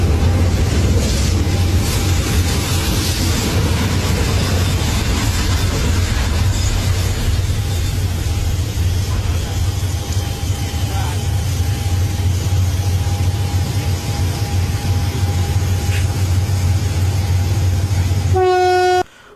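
A train rumbles steadily close by for a long stretch, with a faint high tone in the background, ending in a short sharp horn-like blast just before it cuts off.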